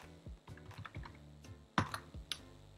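Keystrokes on a computer keyboard while writing Python code, a quiet run of separate taps with a couple of sharper, louder key hits near the end, no talking.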